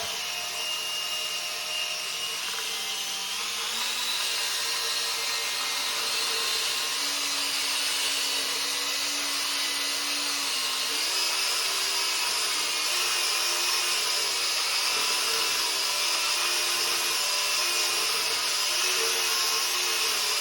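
A power drill with a paddle running continuously to mix drywall compound with green colorant, a steady loud whirring motor drone with slight pitch shifts as the load changes, close and uninterrupted with no talking.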